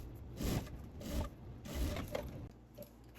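A sewing machine stitches a straight half-centimetre seam on fabric for a large school pencil case. Four faint, short runs of whirring stitching are separated by brief pauses.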